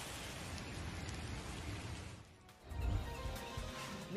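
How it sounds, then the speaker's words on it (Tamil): Heavy rain falls in a steady dense hiss for over half an hour by a roadside where water is pooling, briefly dipping before surging again with a louder splashing burst. "அரை மணி நேரத்திற்கு மேலாக பெய்த கனமழையால் சாலையோரங்களில் தண்ணீர் தேங்கியது"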